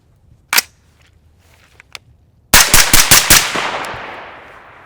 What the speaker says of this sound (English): Let's run a couple rounds through it just to make sure nothing happened.